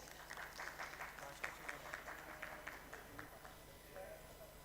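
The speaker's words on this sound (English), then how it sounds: "Kindly have a big round of applause, please." Applause from an audience at a one-day tax conference, a soft, fairly distant patter of clapping that holds steady for several seconds above a low background hum.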